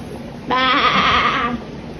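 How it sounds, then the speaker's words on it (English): Goat on a farm giving one loud, close bleat about a second long, wavering and nasal, with quiet background before and after. "Goats"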